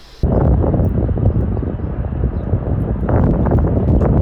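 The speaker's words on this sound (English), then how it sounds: "Oh my god, the wind won't stop." Strong outdoor wind buffets the microphone with a loud, continuous rumbling roar that swells and eases but never stops.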